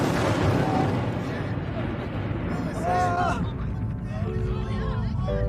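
Nuclear explosions in a Family Guy cartoon scene land as deep, heavy booms and rumbling blasts, mixed with cartoon sound effects and voices speaking over them.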